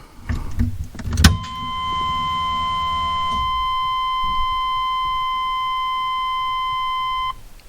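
A key clicks in the ignition of a Chevrolet S10 fitted with Dakota Digital gauges, then a steady electronic chime tone rings for several seconds over a faint hum before cutting off.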